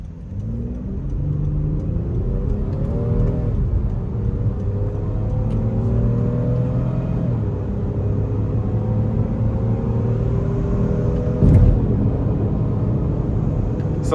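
A 2025 Honda Pilot Touring with only 20 miles on it revs under gentle throttle, its engine tone climbing steadily in pitch with a smooth, continuous hum and rumble heard from inside the cabin, with a brief knock near the end.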